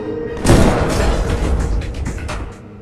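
A single sniper rifle shot booms in a war film scene, a sharp heavy blast followed by a rumbling, decaying tail that fades over about two seconds, loud and close with no voices.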